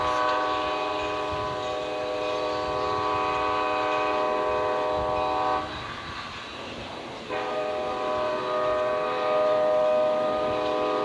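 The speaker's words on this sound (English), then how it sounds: "the train is sounding its horn for that crossing" A train horn blares at a road crossing in long sustained blasts with a brief break in the middle, over the steady rumble of passing rail cars.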